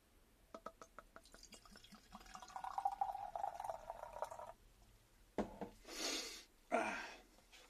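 Bulmer's Norman cider pours from a bottle, starting with a few soft drips and glugs, then a gentle gurgling stream and closer splashing bursts at the end, faint and close.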